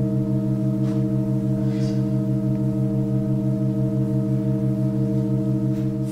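A slow, steady organ chord from a John Cage work drones without a break, layered sustained tones holding unchanged, with faint room noise around them.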